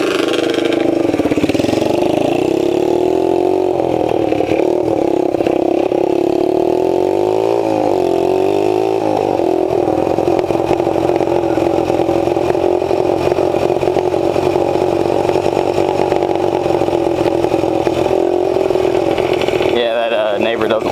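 A Kawasaki KX60 dirt bike engine runs steadily and loud for the whole stretch, a buzzing two-stroke drone with a brief wavering rev near the middle, close to the listener.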